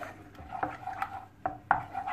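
Chocolate burfi mixture of condensed milk, cocoa powder and fresh milk is stirred in a pan, a spoon clinking against the metal in several sharp scrapes and taps at an uneven pace, close up and with no talking.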